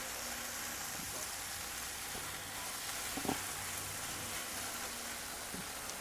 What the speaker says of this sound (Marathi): टोमॅटो पूर्ण शिजवून घ्यायचे आहेत आपल्याला